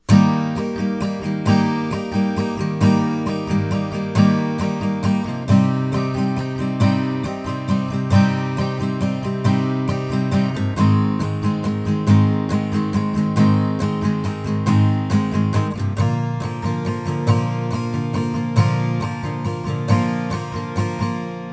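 Acoustic guitar chords strummed in a steady driving rhythm, loud and close, changing chords every few seconds for about twenty seconds without any voice.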